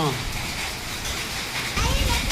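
Steady, dense hiss of heavy rain pouring down in a hailstorm, with a gusty roar of strong wind swelling near the end.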